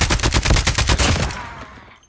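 Rapid automatic gunfire in Call of Duty Mobile rattles in a loud, fast burst for over a second, then trails off into fading echo.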